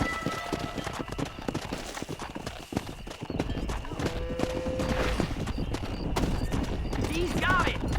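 A horse gallops in the Red Dead Redemption video game, a rapid, rhythmic clatter of hooves that runs throughout, with occasional whinnies, gunfire and game voices mixed in.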